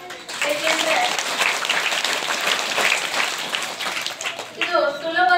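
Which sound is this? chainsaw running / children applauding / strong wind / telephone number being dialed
children applauding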